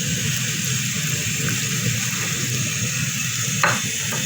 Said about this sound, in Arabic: وبعد كده هننزل بالفول بتاعنا اهو